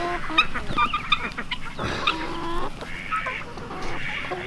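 Cochin chickens settled in their backyard coop at night make close, soft clucks and murmurs. The calls overlap in an irregular chatter, with one brief louder squawk partway through and no talking.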